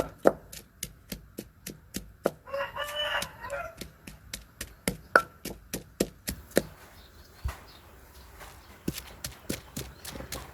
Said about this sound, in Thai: หลังจากตำบักพริกแหลกแล้วจ้าพี่น้อง